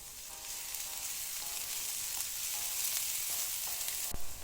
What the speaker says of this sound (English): Now if you see the shallot turns brown, you can now add some garlic into it.